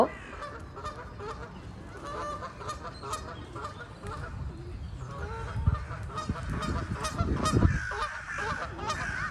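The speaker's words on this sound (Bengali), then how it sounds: "পানি থেকে সব হাঁসগুলো উঠে আমাদের পুরা মানে ঘিরে ধরেছিল একদম দৌড়ে আসছিল সো নাভিয়াকে কোলে নিয়ে আমি একটু দূরে সরে গি" A flock of ducks comes up out of the water toward people offering bread, honking repeatedly in a loud, overlapping chorus that builds toward the end.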